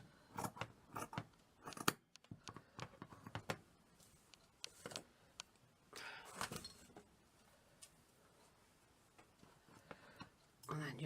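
Scissors trimming cushion fabric, a series of short crisp snips in quick bursts separated by pauses, close and fairly quiet, with light handling noise between the cuts.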